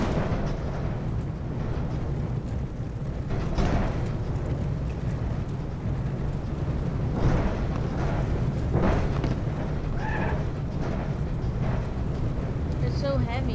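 A Covet car fitted with a heavy bus engine in the BeamNG.drive driving game, giving a deep, steady low rumble throughout with occasional bumps and thuds, while someone talks over it.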